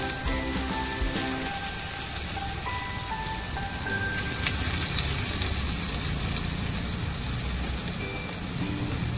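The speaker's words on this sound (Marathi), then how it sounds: "मंद आचेवर आपण यांना तळून घेऊ।" Rajgira puris deep-frying in hot oil over a low flame, giving a steady, dense crackling sizzle that fills the whole stretch at an even level with no talking.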